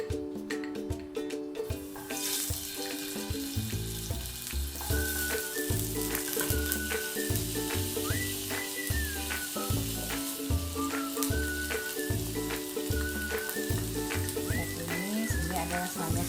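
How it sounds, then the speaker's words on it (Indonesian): Ground shallots and garlic sauté in hot oil, a steady close sizzle with repeated rhythmic stirring scrapes over continuous background music, no talking. "Kita tumis."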